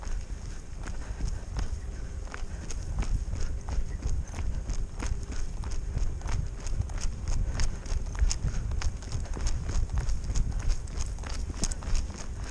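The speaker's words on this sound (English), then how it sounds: "We can go ahead and trot a little." A horse ridden in a hackamore trots on firm ground, its hooves clip-clopping in a steady, close rhythm for several seconds with no voices.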